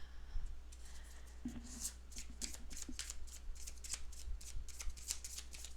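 Tarot cards are shuffled and drawn by hand close up, with quiet riffling swishes and crisp repeated flicks and snaps in an irregular rhythm, no voices.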